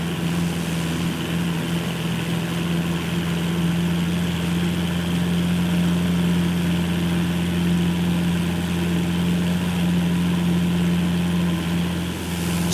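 Steady idling drone of a Cessna 172 piston engine and propeller in Microsoft Flight Simulator 2024, a constant low hum that holds evenly throughout without talk.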